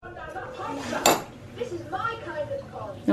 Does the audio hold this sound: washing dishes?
yes